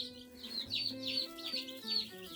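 Buff Orpington and Easter egger hens cluck and chirp in a soft, repeated rhythm close by, with a faint steady hum underneath.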